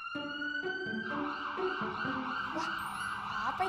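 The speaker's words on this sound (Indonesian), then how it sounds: "Wah, itu bunyi mobil pemadam kebakaran." A fire engine's wailing siren rises and falls continuously, fairly loud and steady, with a lower engine drone underneath.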